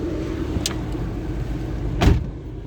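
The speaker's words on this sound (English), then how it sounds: "We're going to demonstrate our windows." A car's electric window motor whirs steadily inside the cabin, ending with a brief thunk as the glass seats; no one speaks.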